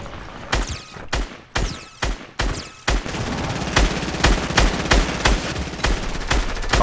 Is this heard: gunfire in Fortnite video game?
yes